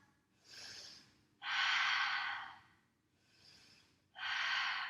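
Deep breathing during a yoga forward bow, two slow cycles of a softer inhale followed by a louder, longer airy exhale, close and quiet, with no talking.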